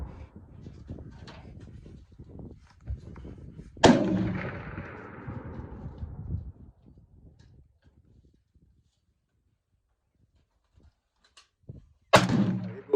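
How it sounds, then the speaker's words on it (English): An AK-47 rifle fired with iron sights at a 200-yard target outdoors, two sharp loud shots far apart, the first trailing off in a long echoing decay, with faint background noise before it. "we're gonna stretch the AK-47 out 200 yards"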